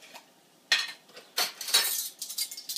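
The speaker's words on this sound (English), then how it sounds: "measure out about a teaspoon of the coconut oil" A spoon scoops a teaspoon of coconut oil from a jar, giving a few short, close metallic scrapes and clinks separated by brief pauses, with no talking.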